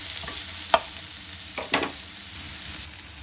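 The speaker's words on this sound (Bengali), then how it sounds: "আর দেবো কাঁচা লঙ্কা। আবারও কিছুক্ষণ আমি এটা একটু ভেজে নেব।" Vegetables and green chilli fry for a biryani-style Maggi, a low continuous sizzle broken by a couple of quick stirring scrapes of a spatula against the pan, close and without talk.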